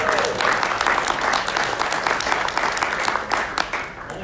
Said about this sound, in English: a round of applause for your socks.